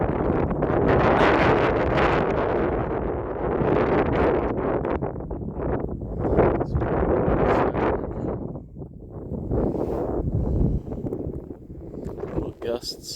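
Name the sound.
gusts of wind before an incoming snowstorm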